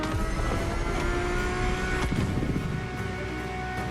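A Ferrari F50 with a naturally aspirated V12 in The Crew Motorfest video game, its engine a dense, continuous high-revving roar held steady and loud for a few seconds, with no voices.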